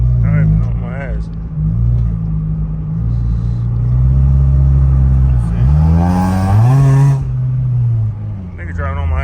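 Engine drone and road rumble from a Honda Integra Type R driven at night, steady and loud, rising in pitch as it revs hard around the middle, with someone talking over it.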